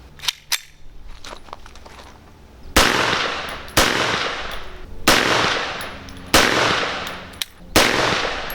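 An AMT AutoMag II .22 Magnum pistol being fired: a few faint clicks, then five loud sharp shots at irregular intervals, each ringing briefly before fading, with no speech.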